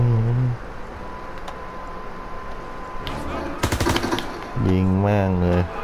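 Automatic gunfire in the World War II shooter game Call of Duty: WWII, with a dense rapid burst of close, loud shots in the middle over a steady game backdrop, and a voice talking before and after.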